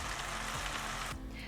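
Champignon mushrooms and carrots frying in a pan with quail, a dense continuous sizzle up close that cuts down sharply near the end.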